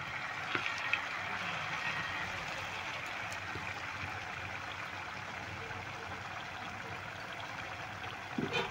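Jalebi sizzles in a little oil, a steady, even frying hiss with faint crackles that carries on close and continuously.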